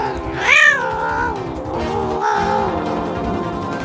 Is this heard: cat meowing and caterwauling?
yes